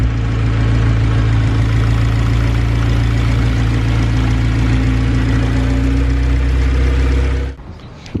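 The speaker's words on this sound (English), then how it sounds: "I did let it just idle until it got up to temperature" A Honda K20A2 engine swapped into a CRX idles steadily and loudly for about seven seconds with a deep, even rumble, then shuts off abruptly, leaving near silence.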